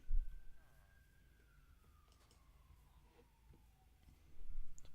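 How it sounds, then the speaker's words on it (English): A police car's siren wails as it goes by, a single long tone slowly falling in pitch, fairly faint and distant over low traffic rumble. "The police car going by."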